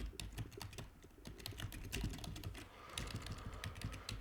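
PHP code being typed on a computer keyboard, a fast, steady run of quiet clicking keystrokes over faint room noise, no talking.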